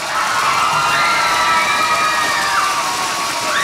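An audience at a singing event for public safety cheers and whoops loudly, a continuous crowd roar with shouted voices filling the whole stretch.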